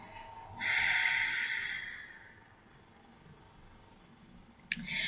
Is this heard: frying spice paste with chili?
no